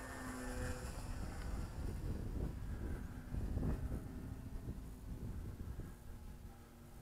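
A light outdoor breeze at a Pietenpol flying session, heard as a steady, close low rumble of wind buffeting the microphone that lasts throughout, with no talking.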